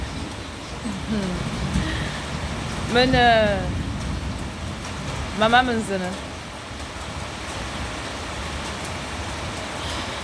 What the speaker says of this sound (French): À l'heure où je vous parle, il pleut chez moi au Gabon.